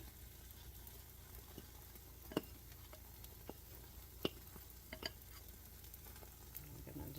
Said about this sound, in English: I'm going to just make sure the spatula, I'm just kind of moving it so every bite has the flavor